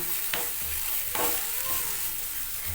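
A mashed vegetable-peel mixture with a few grains of sugar is stirred in a frying pan, giving soft scraping strokes over a steady low sizzle, close and alone with no talking.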